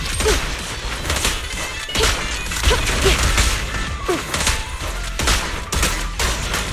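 Gunfire in Zenless Zone Zero: repeated bursts of shots in clusters with short gaps, sharp and loud, with impact crashes mixed in and no talk.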